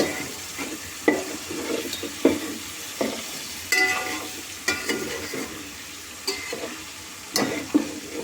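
Pieces of dried fish frying in a pan for a village-style curry, steady sizzling broken by regular scraping stirs of a spatula about once a second, close up and with no voices.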